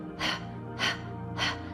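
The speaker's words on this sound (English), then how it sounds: "It's called a Kapalabhati breath, skull shining breath." Three sharp, evenly spaced nasal puffs of a Kapalabhati skull-shining yoga breath, each a short forceful exhale through the nose, close and clear against a quiet room.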